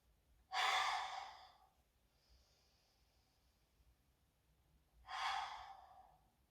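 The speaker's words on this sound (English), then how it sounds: "take a couple of cleansing breaths here, so in through the nose and out through the mouth" Two deep, slow exhalations of cleansing breath during a full-body yoga stretch, breathed out through the mouth about four seconds apart, close and fairly loud, with a faint airy hiss between them and no talking.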